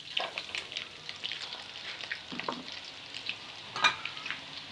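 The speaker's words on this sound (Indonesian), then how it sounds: "Ini digoreng sampai benar-benar garing ya." Noodles deep-frying in hot oil until crisp, a close bubbling sizzle with scattered pops and crackles and a few louder bursts, no talk.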